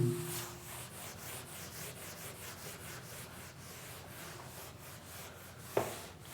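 A cleaning cloth wipes a board in a physics lecture room, producing steady scrubbing and rubbing strokes for several seconds, fairly close and continuous, with a brief sharp knock near the end.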